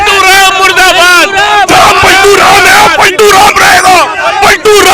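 A dense protest crowd at Turkman Gate chants loudly against Nitish Kumar, rhythmic shouted slogans with overlapping voices filling the scene close up.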